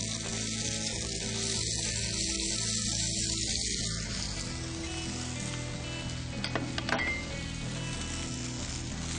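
Torrijas fry in oil with a loud, constant sizzle, a few brief clinks near the end and no voices.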